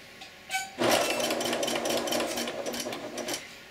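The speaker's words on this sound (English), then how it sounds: "I'm going to backstitch and then forward stitch." A sewing machine backstitches and then runs forward through apron fabric and ribbon, its motor whirring steadily in a rapid, even stitching rhythm after a brief start-up, close and alone.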